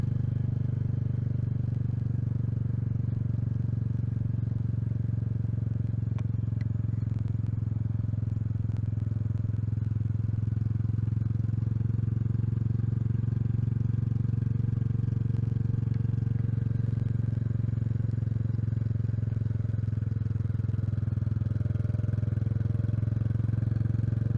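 A motorcycle engine drones steadily and loudly while riding up a wet road toward Nordkapp, with constant wind rush and road noise and no clear speech.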